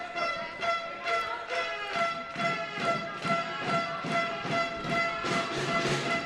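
At a youth handball match, spectators repeatedly blast an air horn. Each tonal, buzzy honk is loud and close, and about eight bursts come in a steady rhythm.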